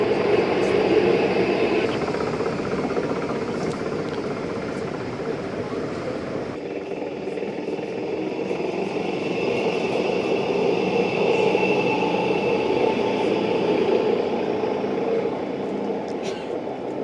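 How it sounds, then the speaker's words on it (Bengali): A mountain railway train descends at Pilatus in Switzerland, giving a steady rumble and rolling hum that runs throughout with a change in tone partway through, close and fairly loud, with faint voices underneath. "ট্রেন নামছে নিচের দিকে।"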